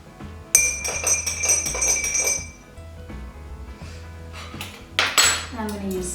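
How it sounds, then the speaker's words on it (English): A metal spoon stirs colored water in a glass, ringing out in quick clinking strokes, then pausing before a few sharper clinks. "I'm just going to take a spoon and I'm going to mix these up so that they are nice and thoroughly mixed"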